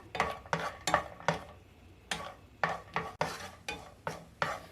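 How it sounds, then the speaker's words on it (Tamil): Cashew nuts roasting in ghee in a pan while being stirred, heard as a run of repeated scraping strokes at an even rhythm, close and moderately loud, with no voices. "நெய் உருகுனதுக்கு அப்புறமா இதில் கொஞ்சம் முந்திரி பருப்பு உடச்சி ஆட் பண்ணிக்கோங்க"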